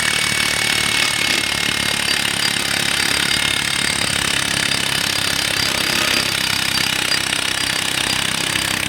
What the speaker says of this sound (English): the drill is doing most of the work for me.